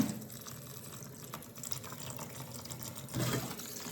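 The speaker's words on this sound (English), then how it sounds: "I'm going to wash in a very cold water." Cooked glass noodles are rinsed under very cold running tap water for a Korean vegetarian japchae, a steady soft splashing stream with a brief louder gush near the end.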